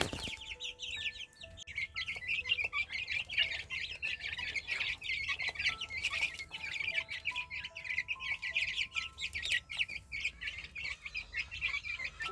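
Chickens and young chicks cluck and peep steadily while being fed onion at a poultry yard, a dense overlapping chorus of chirps and clucks close by with no talking.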